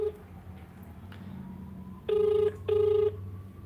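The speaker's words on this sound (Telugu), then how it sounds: "లాతూర్ కూడా ఫోన్ చేద్దాము, వాళ్ళు ఏం చెప్తారో విందాము" Telephone ringback tone heard on a call to a tomato trader in Latur: two steady electronic rings, each about half a second, separated by a short gap over faint background hum.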